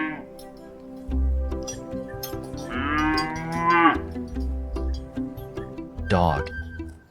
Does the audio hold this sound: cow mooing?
yes